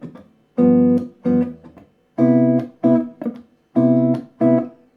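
Jazz guitar comping over a major 2-5-1, short clipped chord stabs in a syncopated rhythm with gaps of silence between, about eight punchy hits, close and dry with no voice.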